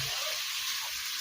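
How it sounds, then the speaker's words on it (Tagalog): Shrimp sautéing with browned garlic and onion in a pan, a loud, dense continuous sizzle with no pauses across the short stretch. "So ikikisa ko na yung hipon."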